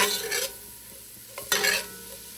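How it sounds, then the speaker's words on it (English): Spicy beef chili is stirred in a pot with a spoon, two scraping strokes over a soft simmering sizzle, close and fairly quiet. "I'm gonna stir that in like so"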